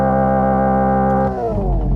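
2025 Hyundai Ioniq 5 N electric car revving through its simulated engine sound: a loud, steady buzzing drone that drops in pitch and winds down after about a second.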